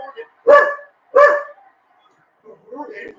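A dog barks twice in quick succession, loud and close, followed by a pause and a softer, muffled vocal sound.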